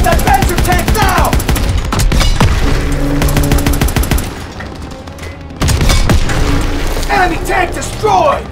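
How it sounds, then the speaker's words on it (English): A German Panzer tank is blown apart amid a Call of Duty WWII battle in Aachen: heavy booms and rapid gunfire burst loudly over one another, ease off briefly into a low rumble, then surge back, with voices shouting through the din. "Enemy tank destroyed!"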